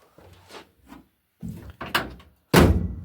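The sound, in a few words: car door closing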